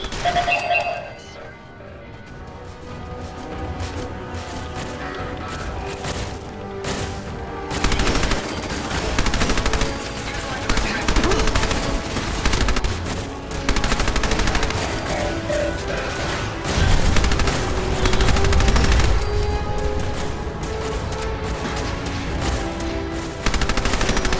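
Rapid automatic turret gunfire in the video game Fallout 4 rattles in sustained bursts with crashes and impacts mixed in, loud and continuous throughout, with some voice underneath.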